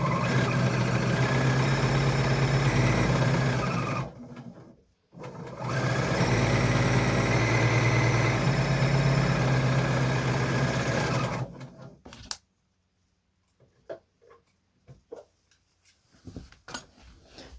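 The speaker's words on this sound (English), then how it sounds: "So I'm going to take it to the overlocker and quickly do that" An overlocker sewing machine neatens the edges of fabric seams for a face covering, running in two loud sustained whirring bursts with a short pause between, then stopping for faint handling clicks and fabric rustles.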